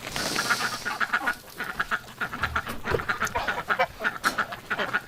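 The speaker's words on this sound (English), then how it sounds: "look at this Muscovy coming in. Oh, ducks." Muscovy ducks quacking repeatedly in a wintry outdoor setting, a dense, overlapping chorus of rasping calls at close range with steady background noise.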